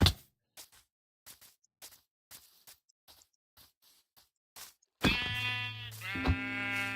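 Sheep in Minecraft bleating, a loud harmonic blat that arrives after several seconds of faint scattered clicks and then repeats, with no talk over it.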